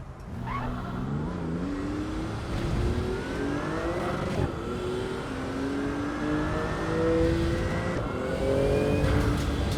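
A race car engine in Assetto Corsa EVO, a paddle-shift car built on the 2018 GT2 Clubsport platform, revs steadily and climbs through the gears. It sounds loud and close, with rising engine pitch and brief tire squeal.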